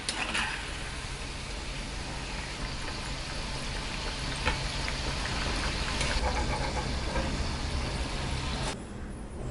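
Bottle gourd kofta frying in oil over a low flame, a steady dense bubbling and crackling hiss that runs throughout, with a few louder pops and no voices.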